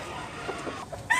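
An old bullstag gamecock at a Cebu cockfighting market gives a few short, muffled clucks close by over low market noise, ending in a brief sharper call.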